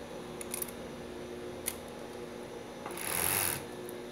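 A domestic sewing machine set up for lycra stitches a bikini with an underwire. It gives a steady, quiet mechanical hum that swells louder near the end, heard from a short distance away.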